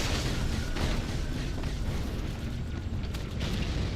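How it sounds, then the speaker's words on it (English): Continuous heavy rumble of fuel rod cannon explosions in the video game Halo 2, dense booming blasts layered together, loud and close, with bursts of crackle over a deep roar. "The fuel rod cannon."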